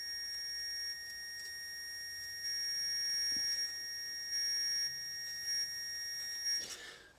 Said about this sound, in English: I want that beeping to stop